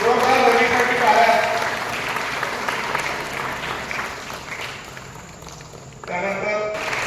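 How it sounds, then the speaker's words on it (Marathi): Loud applause fills a foundation event hall in Mumbai, a thick continuous patter of many hands that gradually thins and softens, while a voice carries over it and speech returns clearly near the end. "जोरदार रवीसाठी टाळ्या"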